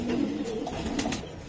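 A white single female racing pigeon coos softly nearby, low murmuring calls under a noisy background hum.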